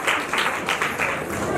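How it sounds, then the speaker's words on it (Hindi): A gathering of the Jangra Sabha in Sonipat breaks into brief, broad crowd applause, a dense wash of clapping with a voice faintly mixed in. "आप लोग जोर से तालियां बजाइए।"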